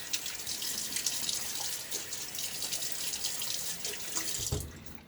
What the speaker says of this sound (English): Just a little water on my face.